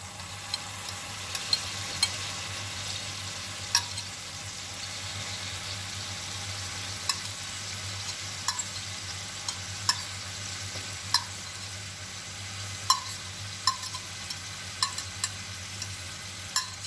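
Tomatoes cooking in a pan of pasta sauce, a soft steady sizzle with frequent light taps and scrapes of a spoon against the pan, no voices.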